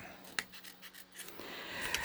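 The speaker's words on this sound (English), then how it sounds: "you're just going to cut little ribbons" Scissors cutting thin paper into narrow ribbons, giving quiet close snips and a light rustle of the strips, faint and with no one talking.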